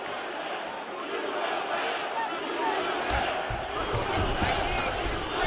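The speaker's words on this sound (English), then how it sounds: "We'll see if the crowd can be mature about this, DC." Video game arena crowd noise from a UFC 4 fight, a steady roaring murmur that swells with cheers in the later seconds, heard behind a commentator's voice.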